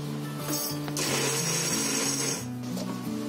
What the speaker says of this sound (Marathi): मिक्सरला याची पावडर करून घ्यायची आहे